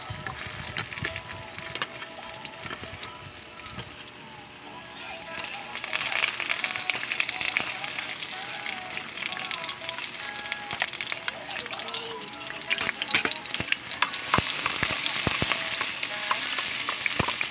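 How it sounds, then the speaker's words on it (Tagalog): Onion and ginger sauté in a pan for chicken tinola with a continuous crackling sizzle that grows louder about six seconds in, broken by scattered clicks from stirring. "Gisa-gisa muna tayo ng sibuyas at luya"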